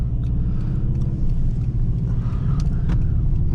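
A 2005 Subaru Outback 2.5 XT swings through a tight U-turn, its engine giving a steady, close rumble from inside the cabin with light road noise and a few faint ticks.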